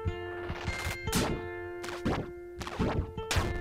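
An icicle shot ability fires in a video game: a series of sharp, bright thunks and cracking impacts with a ringing tonal hum underneath, four or five bursts in quick succession.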